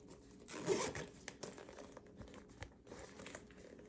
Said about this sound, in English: Got a good zipper.